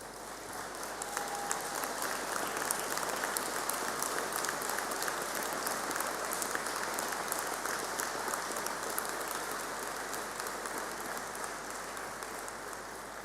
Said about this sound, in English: give them a very well-deserved round of applause